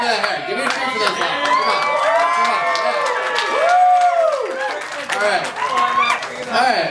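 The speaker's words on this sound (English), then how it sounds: "Give me a cheer for that hair" An audience cheers and whoops with high excited voices and scattered clapping, a loud sustained burst that rises and falls throughout.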